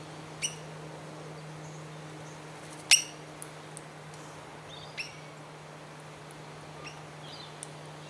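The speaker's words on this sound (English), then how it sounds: "I've got some wild birds here." Wild birds at Loch Sport give scattered chirps and short calls, one sharper call standing out, all faint over a steady low hum with no talking.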